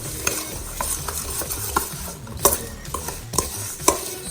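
Fruit filling being mixed with cinnamon, cloves and salt for fall hand pies, with a spoon scraping and clinking in the pan in quick irregular strokes over a soft sizzle, close up.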